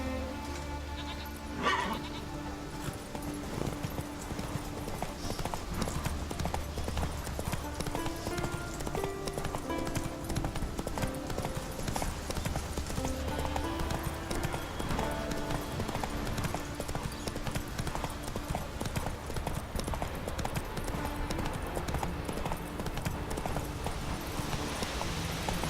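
Roach the horse gallops in The Witcher 3, a steady rapid clip-clop of hooves running under game music, continuous and fairly close throughout.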